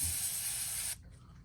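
A paint spray gun being tested before painting a topwater fishing lure gives a loud, steady hiss that cuts off sharply after about a second, leaving quiet background.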